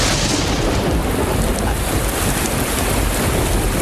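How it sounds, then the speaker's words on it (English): Rain with thunder, heard as a loud, continuous roaring wash of rainfall and rumble that holds steady throughout, with no voices. "Because it's raining."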